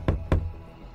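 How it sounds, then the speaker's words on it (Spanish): A door is knocked on twice in quick succession, a pair of close, hollow thuds followed by quiet. "Tocas a la puerta."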